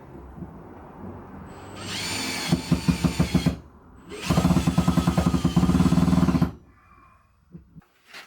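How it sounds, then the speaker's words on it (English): A power drill whirs through two bursts of drilling holes while installing a window security grill frame, the second longer, with the motor's pitch wavering as it bites, close by and loud. "I can drill a few more holes"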